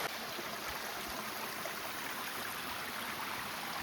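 Water rushes over rocks at a hillside viewpoint, a continuous broadband hiss and roar that stays even and close throughout with no pauses.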